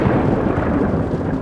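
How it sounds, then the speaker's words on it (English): Thunder rolling through a stormy Jurassic Park night, a loud, dense, close rumble that fills the whole moment without break or voices. "The thunder feels close."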